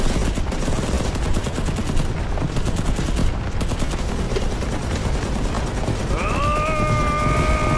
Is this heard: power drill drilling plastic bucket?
no